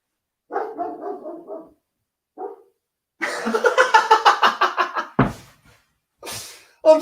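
A dog barks indoors in bursts: a quick run of barks, a single bark, then a longer louder volley, with a thump like a knock and a couple of later yelps, close and loud.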